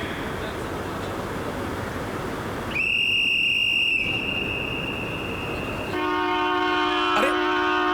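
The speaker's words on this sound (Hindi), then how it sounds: "अरे ट्रेन जा रही है, अरे जल्दी से बाहर निकलो।" A train whistle sounds in two sustained blasts, first a single high tone and then a richer chord-like horn, over a constant rumbling railway background as the train pulls away.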